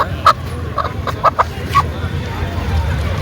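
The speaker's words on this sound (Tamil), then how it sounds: "ஒரிஜினல் நாட்டுக்கோழி" A native country chicken at a market gives several short, sharp clucks, close by, amid background noise and people talking.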